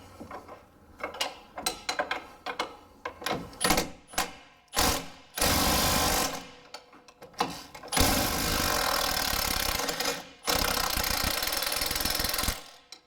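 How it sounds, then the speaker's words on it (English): A pneumatic impact gun loosening control arm bolts on a car suspension: repeated short rattling bursts, then longer sustained hammering runs, loud and close in a workshop, with no talk. "hold it with my wrench up top and use my impact gun on the bottom, and we should be able to remove these quite easily"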